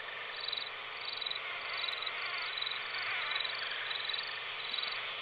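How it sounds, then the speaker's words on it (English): Dense, steady chorus of insects buzzing in the video game Kentucky Route Zero, a continuous mosquito-like drone with frog-like croaking throughout, filling the scene evenly with no talk. "Not really a huge fan of the buzzing, the mosquito-like buzzing, but..."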